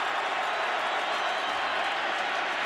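Fans at a Chargers–Colts NFL football game keep up a loud, continuous roar, a thick hiss of crowd noise filling the stadium without a break.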